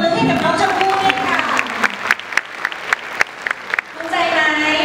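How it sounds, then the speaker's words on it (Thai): Scattered hand claps from an audience for contestant Chompoo at the 2BN1 IDOL singing contest in Songkhla, with someone talking before and after the brief, sparse burst of clapping. "ขอเสียงปรบมือให้กับน้องชมพู่ด้วยค่ะ"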